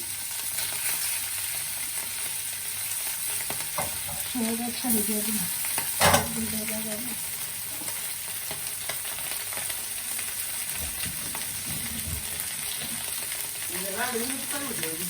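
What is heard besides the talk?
fish and spices frying in pan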